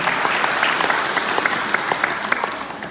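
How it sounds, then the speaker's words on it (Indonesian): A crowd at a Bali community gathering in Jembrana claps loudly and continuously, dense overlapping applause with a few sharper claps standing out near the front. "Tepuk tangan dulu buat mereka semuanya"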